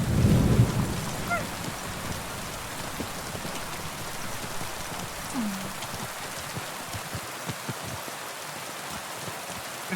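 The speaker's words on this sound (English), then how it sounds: "Comfy rain noises, yeah. Bit loud." Steady rain and rumbling thunder fill a stormy ambience in the medieval video game Kingdom Come: Deliverance II, with a loud thunder burst at the start and continuous downpour after.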